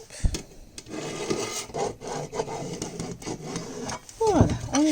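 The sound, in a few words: tracing charlotte outline on fabric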